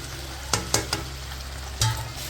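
Chopped bell pepper is stirred into cooked potatoes in a pan. Four sharp scraping knocks of a utensil against the pan, three close together and one a moment later, sound over a quiet sizzle with no talking.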